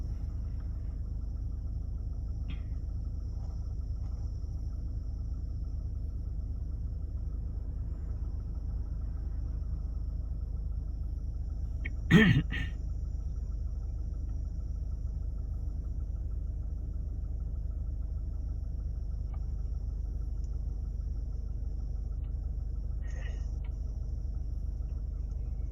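Inside a moving car on a dash cam test drive, a steady low road and engine rumble continues throughout, with one brief sharp knock midway and no talk.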